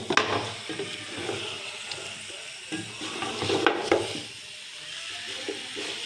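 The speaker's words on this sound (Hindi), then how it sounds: "पाँच मिनट तक इनको अच्छी तरह भूनें" Beef trotters fry with spices in a pan as they are stirred, a steady close sizzle broken by scraping and clinking of the spoon at irregular moments.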